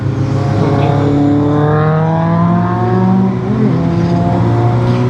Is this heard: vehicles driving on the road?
yes